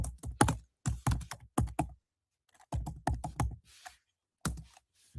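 Fast bursts of typing on a computer keyboard, close and crisp, with quick rapid key clicks grouped in short flurries separated by brief pauses.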